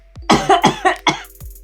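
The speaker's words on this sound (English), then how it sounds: "I got a cough." A person coughs four or five times in a quick, close, fairly loud burst, with a softer throat sound at the end.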